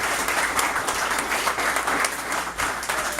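Loud, continuous applause from an audience fills the room, a thick wash of many hands clapping at once that holds steady throughout.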